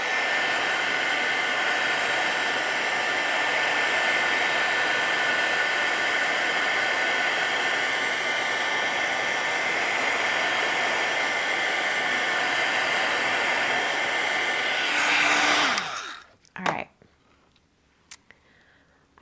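Heat tool blowing hot air to melt embossing powder on a holiday card, a loud continuous whooshing hiss that cuts off abruptly near the end, followed by a few small clicks and handling sounds.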